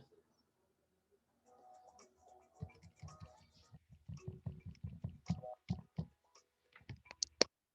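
A computer mouse clicks several times while a Google Docs document is being written, first a few soft taps, then a quick run of sharp, close clicks with short pauses between them. No one speaks.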